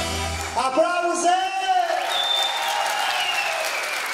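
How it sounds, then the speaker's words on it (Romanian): Audience applause at a live show in Montreal as a singer's guests stand up, a steady wash of clapping with some whoops, under a host speaking loudly over it. "Aplauze!"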